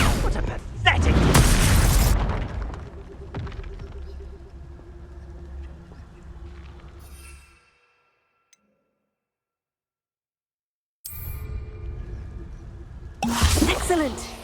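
Confringo and Incendio spells burst in loud magical explosions during a Hogwarts Legacy duel, with a heavy blast early, fizzing crackles, a sudden total silence, then more booming impacts, all mixed with character voices.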